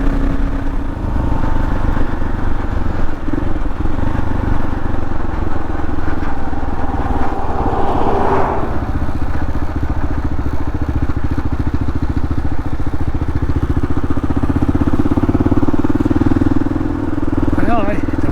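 A motorcycle ridden at speed on a winter ride: a loud, steady engine drone mixed with rushing wind buffeting, constant for the whole stretch, with a person talking over it now and then.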